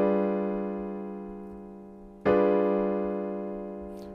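Two struck piano chords, a G dominant seventh with a flat nine, each ringing and slowly decaying, the second sounded about two seconds after the first, clear and close with no talking.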